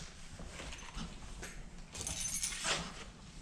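Car keys for a Toyota Camry jangle and clink faintly in a hand, a few quiet metallic rattles close by in a garage after an oil change, with no voices.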